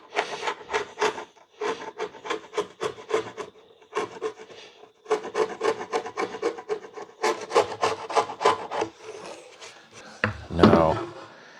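A beater chisel scrapes beehive woodenware in bursts of quick, rasping strokes. The strokes come in close-up runs separated by short pauses, and a louder knock closes the sequence.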